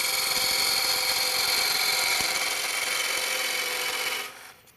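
A square nose scraper cuts on a wood lathe while shaping a yarn bowl, a steady harsh rasping hiss over the spinning machine's hum, loud and close, then tapering as the tool lifts away near the end.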